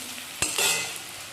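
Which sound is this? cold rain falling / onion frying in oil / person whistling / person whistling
onion frying in oil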